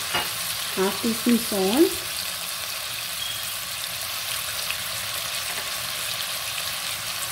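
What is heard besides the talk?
chicken frying in a pan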